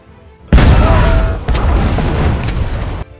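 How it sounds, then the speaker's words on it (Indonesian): A sudden, massive dynamite explosion booms in, followed by a long rumbling roar with a second crack, then cuts off abruptly. "memanah dinamit itu dengan panah berapi dan membuat ledakan yang sangat besar"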